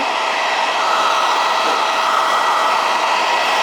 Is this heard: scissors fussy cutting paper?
no